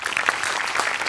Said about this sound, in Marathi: सगळ्यात आधी सचिन मोठ्यांसाठी जोरदार टाळ्या